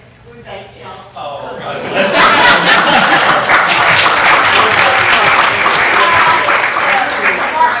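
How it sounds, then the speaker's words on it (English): Audience at a public board meeting applauds; after a brief stretch of talk and a little laughter, loud, dense clapping starts and holds steady for several seconds. "So we'd like to give them another round of applause."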